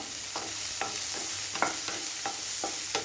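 A large cut onion sautés in a pan with curry leaves to follow, a continuous bright sizzle broken by regular scraping strokes of a spatula stirring it, close and loud.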